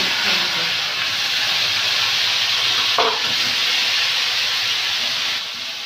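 Eggplant, peas, bitter gourd, potato, beans and carrot fry in a pan with panch phoron, making a loud, continuous sizzling hiss with a brief stirring scrape midway.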